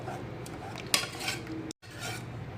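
Chilli flakes and spices for dal curry are crushed in a bowl, giving steady gritty grinding and scraping with one sharp metallic knock, then a brief silence before the rubbing resumes.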